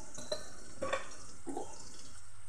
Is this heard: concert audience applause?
no